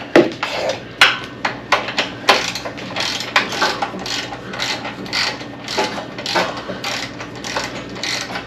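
A ratchet wrench tightens the starter motor bolts on a John Deere 652R tractor, clicking in repeated short bursts of sharp metallic pawl ticks, close and distinct, with no talking.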